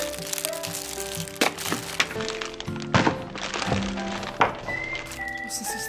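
A chocolate Easter egg with a toy inside is cracked open by hand, giving sharp snaps, thunks and crinkling foil in irregular bursts, close up, with faint background sounds.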